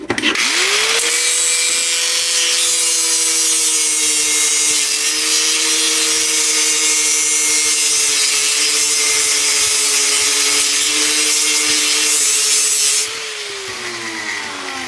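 A power tool cuts through the end of a go-kart exhaust pipe with a loud, steady, whining grind and hiss that runs for about twelve seconds before winding down, with no talking.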